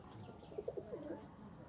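A female Pakistani high-flying pigeon gives a short run of soft, hooting coos in the middle of an otherwise quiet, faintly noisy stretch, fairly close and unaccompanied by speech.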